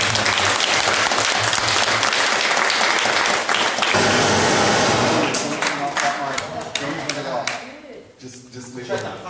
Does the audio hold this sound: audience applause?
yes